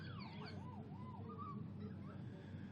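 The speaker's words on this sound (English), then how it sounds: "As the siren sounds," A faint siren wails and swoops repeatedly in the distance at a rugby league match, sounding thin over a low crowd murmur.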